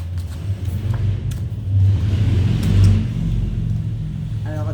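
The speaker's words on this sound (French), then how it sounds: "là je pense qu'il y a une belle moto qui est passée." A motorcycle goes past on a nearby road: a low engine rumble that swells to a peak midway, then fades under steady background noise.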